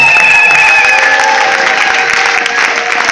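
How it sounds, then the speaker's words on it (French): A church congregation applauds and cheers loudly and continuously throughout, a dense close wash of clapping with voices shouting over it. "Si tu es délivré, acclame très fort."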